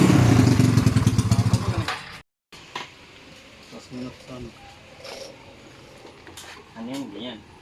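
A modified stage 1 Yamaha Aerox scooter with an aftermarket exhaust pipe gives a loud, raspy rev for about two seconds, then cuts off abruptly. Quieter background noise and scattered voices follow.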